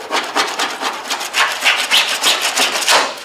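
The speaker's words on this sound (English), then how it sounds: "See how I'm doing this with this scraper? And what it's doing, it's scratching that paint" A hand scraper rasps paint off the body of a 1967 Pontiac GTO, close and loud in a quick, even rhythm of repeated scratching strokes.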